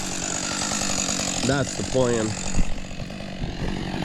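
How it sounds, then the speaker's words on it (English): A chainsaw runs steadily nearby while cutting stumps flush to the ground during lot clearing, its buzzing drone continuing beneath a brief spoken remark. "I got to chainsaw a couple stumps down like this right here"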